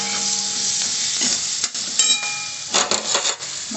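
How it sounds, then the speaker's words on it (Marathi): Masala spices fry in a hot pan with a loud, steady sizzle, broken by a few scraping stirs and clinks of a spoon against the metal. "मसाला छान फ्राय होतो."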